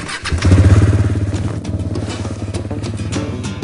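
A motorcycle engine drives a belt-coupled propeller on an amphibious motorcycle-and-inflatable-boat project, starting with a loud throaty burst and then settling into a steady, even running rumble that fills the short stretch.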